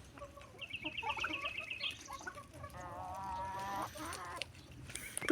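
Several hens cluck and peck while eating droppings in a farmyard where ducks also roam; the calls run in short bursts from nearby, some sharper and higher, others low and throaty, over faint background rustle.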